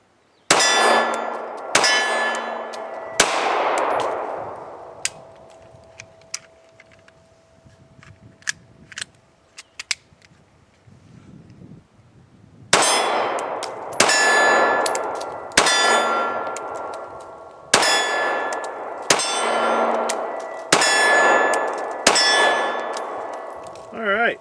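A Springfield Hellcat pistol with an extended magazine is fired outdoors. A few sharp, loud shots ring out with metallic echoes. After a long pause, a second rapid string of about seven shots follows, each with a ringing tail.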